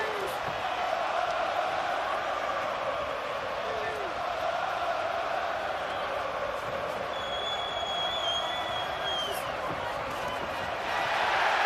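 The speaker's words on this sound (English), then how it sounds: "Here the crowd reacts as Kambosos fires off on the inside." At the Kambosos vs Haney boxing match, a stadium crowd keeps up a constant roar that swells with cheers and whistles, with a commentator's voice talking over it.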